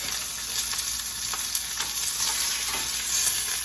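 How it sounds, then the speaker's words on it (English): Steak sizzling on a grill right after being flipped, a close, steady hiss and crackle running the whole time with small pops, a touch louder near the end. "Let's flip the steak."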